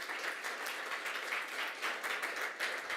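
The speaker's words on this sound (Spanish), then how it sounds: "¿Cuánto le dan un aplauso al Señor?" A church congregation claps together during a Spanish-language sermon, a fairly quiet, continuous patter of many hands with a slightly pulsing rhythm, heard from a distance with no voices over it.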